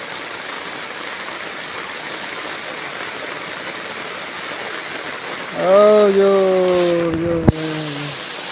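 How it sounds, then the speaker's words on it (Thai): Heavy rain falls in a steady, dense hiss throughout. Partway through, a brief harmonic tone and a short voice rise over the downpour before it carries on. "ฝนตกเด้อพี่น้องเอ้ยฝนตกหมดมือนำนองเลย"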